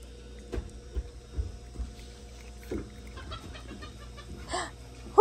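A bird calls in a series of short clucking notes around a home with pet monkeys, soft and intermittent over a quiet background, with a louder call near the end.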